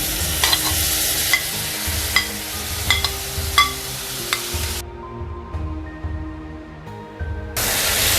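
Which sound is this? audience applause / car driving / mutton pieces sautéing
mutton pieces sautéing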